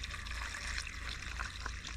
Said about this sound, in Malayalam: അങ്ങനെ ഇതാ നമ്മുടെ ചോലവെള്ളം,